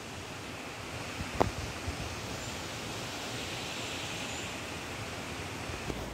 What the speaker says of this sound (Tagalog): lakas talaga ang tubig dito